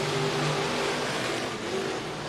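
Race car engines drone steadily and loudly with a dense, continuous roar as the field accelerates together at the green flag of an IMCA dirt track race.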